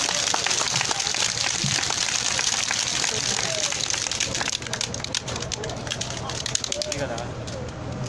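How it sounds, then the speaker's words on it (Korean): Sustained crowd applause at an outdoor Wednesday demonstration, a dense, even patter of many hands that continues throughout, with some scattered louder claps toward the end. "큰 박수 다시 한번 부탁드리겠습니다."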